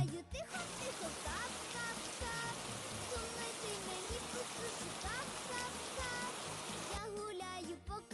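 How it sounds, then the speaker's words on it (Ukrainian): Steady rain patters and hisses continuously, a soft wash of droplets with a few brief clicks near the end. "Послухайте звуки дощу."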